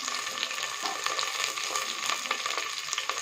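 Garlic, curry leaves and green chilli sizzle and crackle steadily in hot oil while being sautéed for a fish gravy, a close, continuous frying hiss with scattered pops.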